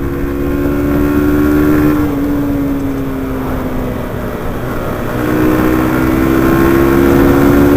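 A Yamaha YBR 125 motorcycle engine screams at high revs during a top-speed run, a loud steady whine with a brief dip in pitch around a gear change, then climbing again, heavy wind noise underneath.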